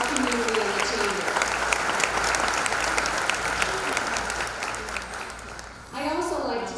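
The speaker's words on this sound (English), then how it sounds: "Let's give all these incredible people a round of applause" Steady, dense applause from a chamber of commerce awards banquet audience continues for several seconds and gradually thins, with a voice speaking over the clapping near the end.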